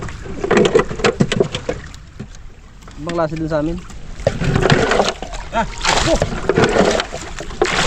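A motor boat engine runs at sea on a fishing outing, a steady low drone mixed with water sloshing and splashes, heard under frequent loud talking and wind buffeting close to the microphone.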